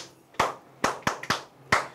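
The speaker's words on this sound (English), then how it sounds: "Clap for yourselves." Children in an online music and literature class clap for themselves: five sharp, separate claps in an uneven rhythm, close and fairly loud, with no talk.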